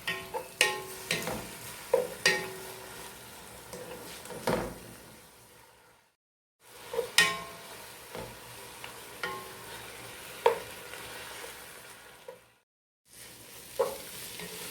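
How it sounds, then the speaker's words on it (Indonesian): Grated carrot, capsicum and tomato stirred in a hot pan for chicken mandi, a spoon scraping in repeated strokes over a soft steady sizzle, close and alone, with two brief silent gaps. "Kita aduk sampai air dari bahan-bahan yang kita parut ini menyusut."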